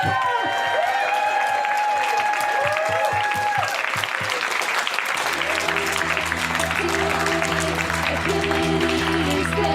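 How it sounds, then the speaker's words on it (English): A crowd breaks into loud, sustained applause and cheering, clapping building into a thick wall of sound that continues as music begins underneath. "Can we have a big cheer for Dan and April?"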